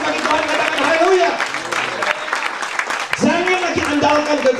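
A church congregation claps and cheers in praise, a dense, loud wash of applause with voices shouting and calling out over it throughout.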